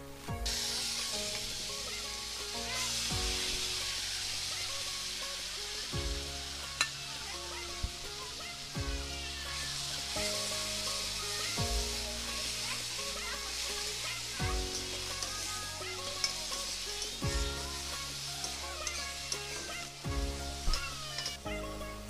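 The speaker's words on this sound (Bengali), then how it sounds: "তো এবার মাছ ভাজাটা চাপিয়ে নেব।" Fish frying in a pan in a home kitchen, a steady soft sizzle running throughout, broken by regular clinks and scrapes of a utensil and occasional sharp crackles, with music playing underneath.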